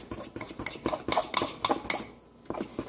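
A spoon stirs mug cake batter in a mug, scraping and clinking against the sides in a steady rhythm of close, fairly loud strokes that pause briefly near the end.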